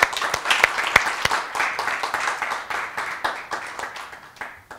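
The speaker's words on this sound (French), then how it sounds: "je propose qu'on applaudisse d'ailleurs François" A modest studio audience applauds a guest joining the set of a live campus broadcast. Distinct individual claps stand out over a lighter, continuous patter that gradually tapers off.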